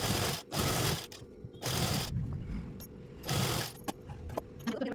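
Sewing machine stitching a kaftan dress runs in short rattling bursts separated by pauses, close and fairly quiet, with no talking.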